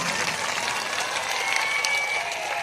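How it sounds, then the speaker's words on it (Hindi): A crowd claps loudly and steadily at a political rally in Darbhanga, Bihar, with continuous dense applause and a faint whistle partway through. "एक बार जोरदार तालियां बजाओ"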